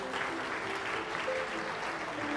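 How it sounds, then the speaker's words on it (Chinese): A church congregation clapping hands during a worship service, a steady, fairly quiet wash of many palms heard throughout with no talk. "我们再次拍手来鼓励他们。"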